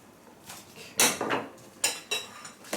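Salami ingredients are dumped into a cold bowl, giving a few sharp clattering thuds and rattles against the bowl in quick bursts, close and moderately loud with no talking.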